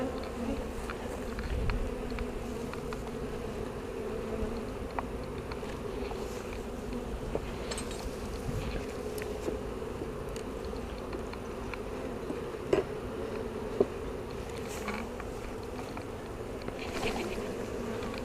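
Honey bees buzz around an open hive during a split, a dense steady drone close by that holds throughout with small clicks and knocks scattered over it and no talking.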